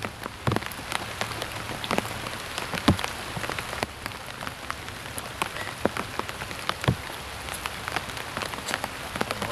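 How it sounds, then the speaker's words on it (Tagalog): Heavy rain pours down in the mountains, a dense steady hiss with scattered sharp drops striking a surface nearby, loud and continuous with no talking. "Sisilong muna tayo dito dahil may napakalakas na ulan"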